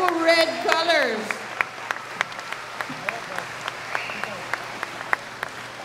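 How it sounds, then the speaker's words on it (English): Scattered applause for second grade teachers at a Hawaiian school ceremony, sparse individual claps spaced through the clip after a brief voice at the start. "Second grade teachers, you are to be applauded."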